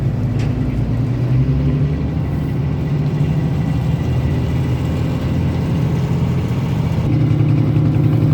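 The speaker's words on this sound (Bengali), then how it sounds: "আজ আমাদের লঞ্চ এখন বরিশাল টার্মিনাল ত্যাগ করে বরিশালের উদ্দেশ্যে রওনা দিচ্ছে" Passenger launch engine rumbling steadily as the vessel departs the Barisal launch terminal, a loud continuous low drone with a slight lift in pitch near the end and no talk.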